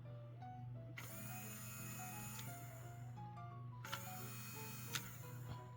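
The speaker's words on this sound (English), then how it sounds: "the only way that that motor stops is if I let go" A small electric motor in a toy RC car whirs steadily with a mechanical, ratcheting gear clatter, close up over a constant low hum, with a couple of sharp clicks.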